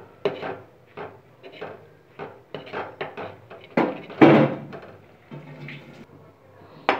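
Jowar flour mixture is stirred in a pan on the stove, a series of irregular scraping and knocking strokes against the pan, some louder and rougher, with brief pauses between.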